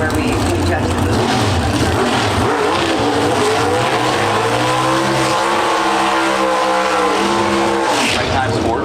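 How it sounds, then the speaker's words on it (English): Pro stock drag cars roar side by side through burnouts at the NHRA Route 66 Nationals in Chicago, a loud continuous engine scream with rising revving tones and tire noise throughout, while a commentator talks over it. "Pretty cool side-by-side burnouts for the winningest driver in pro stock history and son as they back up."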